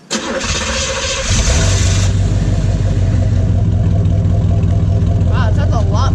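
A 1983 Firebird with straight-pipe exhaust cranks, fires up and settles into a loud, deep, throbbing rumble with a few blips of revving near the end, close and dominant, with voices briefly under it.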